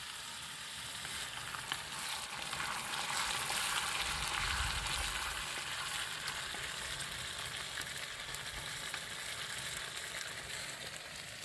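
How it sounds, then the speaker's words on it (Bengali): Onions fry for a chicken curry with a steady, close, loud sizzle in a pan. Bright crackling hiss runs unbroken throughout, with a faint stir partway through and no talking. "এবার প্রায় পেঁয়াজটা একটু ভাজা হয়ে এসছে"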